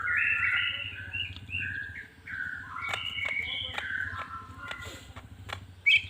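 A caged green leafbird (cucak ijo) in breeding condition sings bright, warbling phrases and sharp chirps in bursts, close and clear, over a steady low hum and faint insect-like buzzing, with a brief loud knock near the end.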